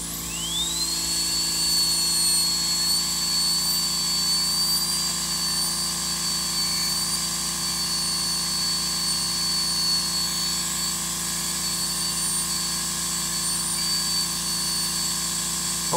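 A rotary carving tool spins up to a high, steady whine while it details carved leaves on a wooden duck call, humming close and even throughout.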